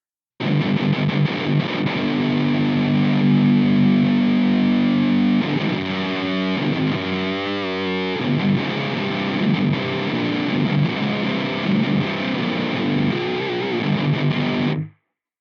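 Heavily distorted electric guitar through a Nux MG30 unit plays continuously and loudly, with thick sustained chords and a brief run of shifting notes in the middle.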